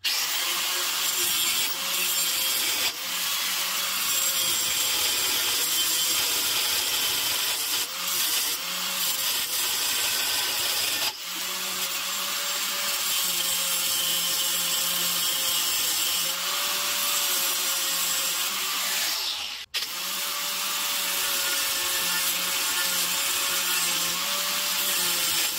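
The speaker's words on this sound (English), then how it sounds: "I'll just put that in my drill and use it to mix up the concrete" A loud, continuous power drill whine driving a homemade paddle through thick concrete for a garage floor repair, running steadily for a long stretch with brief dips and a sharp break near the end.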